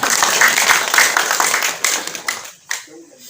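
A gathering at a training for temple priests in a village in Jembrana claps together, loud and dense, then fades into scattered claps and quiet near the end.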